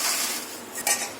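Vermicelli noodles, cooked for five minutes, are broken up by hand in a large bowl for a konafa sweet cheese dessert, giving a steady close dry crunching and rustling with a brief louder crackle near the end.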